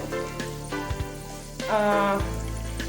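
Homemade hair oil ingredients sizzle and bubble in hot oil on a stove, a close, steady frying crackle broken by a few small pops and stirring knocks.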